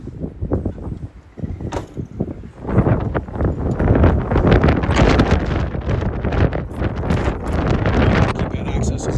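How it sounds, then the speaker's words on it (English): Strong wind buffeting outdoors on a 13-acre Minnesota homestead, loud gusty roaring that rises and stays heavy, with brief talk early on. "Don't mind the wind."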